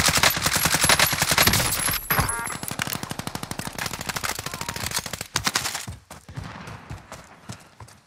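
Rapid automatic gunfire in Call of Duty: Modern Warfare, a dense steady stream of shots for about six seconds, then scattered single shots and a quieter tail.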